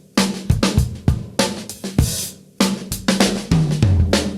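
A drum break, a punchy funk groove of crisp snare backbeats, kick hits and hi-hat, played alone and up close at a lively, syncopated pace.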